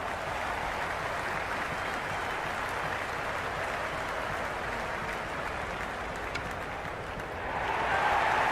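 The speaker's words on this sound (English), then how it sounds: "The crowd are really getting quite raucous." A stadium crowd roars in a cricket video game during an India vs Zimbabwe T20 match: a dense, continuous wash of cheering and noise that holds steady throughout and swells slightly at the end.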